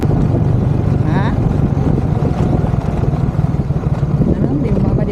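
A boat's motor engine running steadily and loudly throughout, a constant low rumble with wind buffeting the microphone; voices talk briefly over it.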